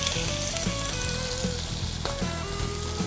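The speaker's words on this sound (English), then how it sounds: "we're going to sear the bottom, the top part first, which is where the marrow of the bone is" Osso buco veal shank, lightly dusted, searing in a thin layer of oil in a hot pan, a loud steady sizzle close by with faint stirring, no voices.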